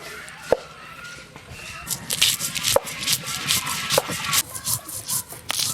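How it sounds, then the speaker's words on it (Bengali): Turmeric, mustard oil, green chilli and mustard seeds ground together on a stone, giving close rubbing and scraping strokes in an irregular rhythm with a few sharp knocks, loudest in the second half. "হলুদ, সরিষার তেল, কাঁচা লঙ্কা, সর্ষে একসঙ্গে বেটে নেব।"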